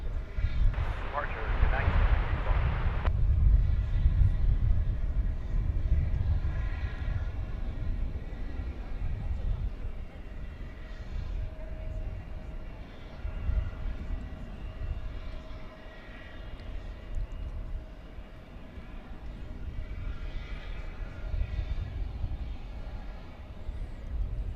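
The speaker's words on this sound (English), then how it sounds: "this Queen of the Skies lifts off for Lima," Deep, powerful roar of a heavily loaded Boeing 747 taking off from DFW Airport, a broad rumbling engine drone that swells and holds at a distance, with someone talking over it.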